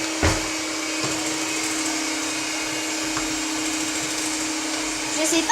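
A kitchen food processor runs loudly and steadily throughout, a continuous whirring motor drone with a brief knock near the start, heard close up with no voices over it.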